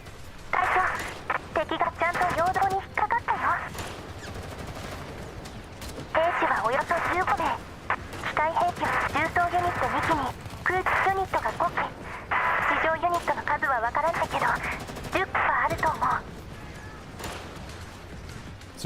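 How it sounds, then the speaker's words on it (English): Rapid bursts of automatic gunfire from a battle in the Girl's Frontline 2 Exilium video game crackle loudly in repeated volleys over nearly twenty seconds, with brief pauses between bursts and a voice speaking underneath. "an ear-splitting alarm goes off in the northeast, followed by a vicious burst of gunfire"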